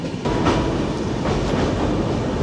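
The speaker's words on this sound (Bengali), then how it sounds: "ট্রেন টাটানগর ঢুকছে।" A passenger train rolls into Tatanagar station with a continuous loud rumble and rhythmic clatter of wheels on rails, heard close from inside the moving carriage.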